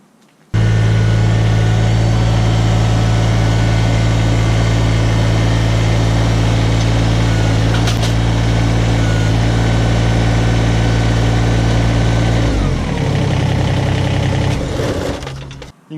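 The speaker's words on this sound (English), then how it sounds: "now I'm going to show you hooking up to this implement with the tractor" A tractor engine idles steadily and loudly while an implement is hooked up with a quick hitch, with a low continuous drone and clunks near the end as the engine note shifts and drops.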